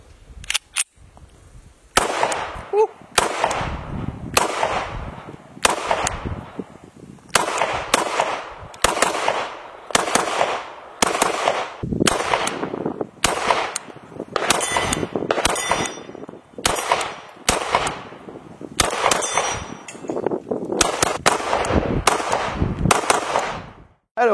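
Shots from a Canik Mete MC9 Prime compensated pistol with a 17-round magazine, fired close and loud in uneven strings of sharp cracks with metallic ringing, dozens of reports separated by short pauses.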